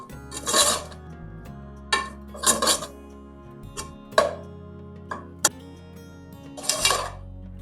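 Spices are mixed into boiled potatoes in a bowl, heard as scattered scraping and clinking of a spoon against the dish, in short separate bursts with quiet gaps between them.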